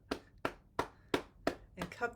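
Hands clap and then tap firmly on the body, five sharp, evenly spaced claps followed by a looser flurry of pats, close and clear with no talking.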